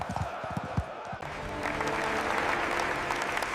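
A crowd breaks into applause after a brief opening of other sound, the clapping swelling into a steady, full wash that lasts to the end.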